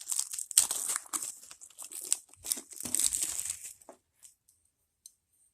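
Plastic wrapping being torn and crinkled off a Honda oil filter, close and busy for several seconds, then stopping, leaving a few faint rustles and one small tap.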